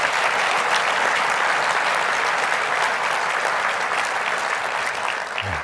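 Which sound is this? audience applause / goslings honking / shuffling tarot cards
audience applause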